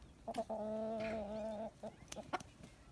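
Amrock chickens cluck close by: a few short clucks, then one drawn-out squawk, followed by scattered clucking.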